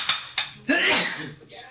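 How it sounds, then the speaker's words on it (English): A sharp, breathy sneeze bursts out near the mic amid light kitchen clinks and clatter. "I'm gonna sneeze."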